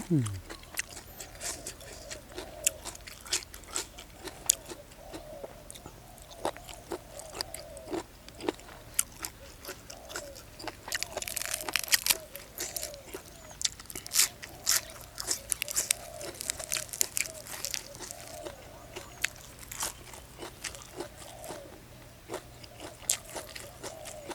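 Large squid tentacles dipped in spicy sauce and eaten with crisp vegetables are chewed close up, giving a steady run of crunchy bites and wet chewing that repeats through the whole stretch.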